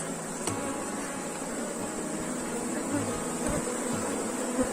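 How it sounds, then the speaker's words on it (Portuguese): Dense swarm of honeybees buzzing steadily around a hive in an apiary, a continuous close, loud drone of many wings with no talk over it. "E o enxame, ó, apesar de hoje estar com muita abelha"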